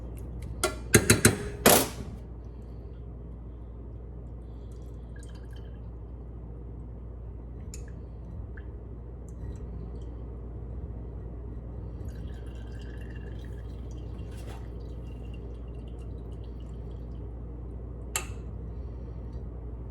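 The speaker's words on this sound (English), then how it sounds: "the herbs absorb a ton of the liquid, so we're going to want to press as much of that out as we can" Soaked elderberry syrup herbs are squeezed, giving a short burst of wet squishing and dripping near the start, then a long low background with a few faint drips.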